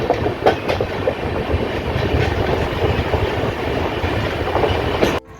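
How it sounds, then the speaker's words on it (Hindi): Utkal Express train rolling into Katni Murwara railway station, steady clickety-clack of wheels over rail joints with a continuous rumble, recorded close from on board, cutting off abruptly at the end. "अब हमारी यह Utkal express Katni Murwara railway station के प्लेटफॉर्म पर इंटर कर चुकी है दोस्तों।"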